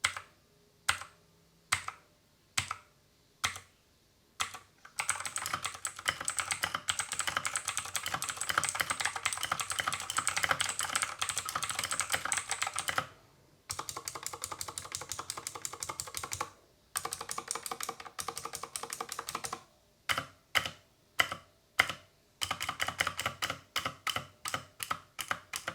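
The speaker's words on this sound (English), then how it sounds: "Blue switches are very clicky and loud" A Redragon K552 mechanical keyboard with blue switches clatters with sharp clicky keystrokes. Slow separate taps give way to bursts of fast continuous typing, then more spaced presses, close up with no voices.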